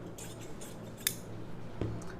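Scissors snip fabric for a puff sleeve, a couple of quiet, crisp clicks of the blades closing, close by against a soft, quiet room background.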